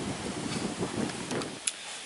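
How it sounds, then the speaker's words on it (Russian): Steady roaring wind buffets the microphone, a broad gusty rush close up with a brief sharp knock near the end. "На улице очень сильный ветер"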